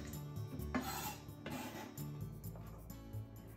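Sweet potato pieces cut for kakiage tempura are tipped into a bowl, giving a faint, continuous scraping rustle with a few soft knocks and no speech.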